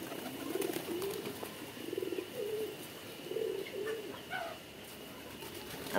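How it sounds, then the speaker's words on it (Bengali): Pigeons coo repeatedly in low, soft, rolling phrases while feeding from pots of grain, with faint chirps and a steady background hiss. "তো দর্শক, সব কবুতর আসছে খাওয়ার জন্য"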